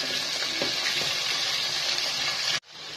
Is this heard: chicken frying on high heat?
yes